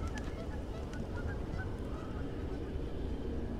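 Honking goose-like bird calls ring out in the Pacific Drive video game, several short tonal honks in the first half over a dense, steady rumbling ambience.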